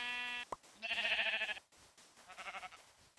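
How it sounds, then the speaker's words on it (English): Sheep bleating in Minecraft: a tonal beep-like sound, then two wavering, nasal bleats, the first loud and the second a bit softer, with no talk over them. "Damn sheep."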